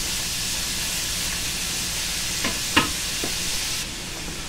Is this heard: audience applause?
no